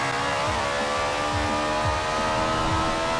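BMW i8 hybrid supercar with a swapped engine in Forza Horizon 4, a loud, steady engine drone holding high revs with repeated rising gear-shift surges throughout.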